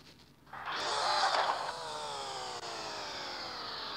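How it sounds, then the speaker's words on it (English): In the Car X Drift Racing game, a drift car engine with a turbo-style kit is revved in neutral: a sudden loud whoosh surges in, then the whining tone slowly winds down and settles into a steady hum. "you'll have that whooshing sound"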